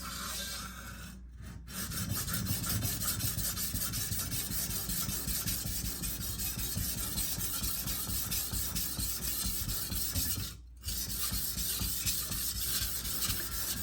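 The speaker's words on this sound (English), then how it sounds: "I'll start down at the base and of course work my way up, and then I'll finish with really long sweeps" Large kitchen knife being sharpened in long sweeps, a continuous raspy scraping of steel on stone, close and steady, broken by two brief pauses near the start and one later.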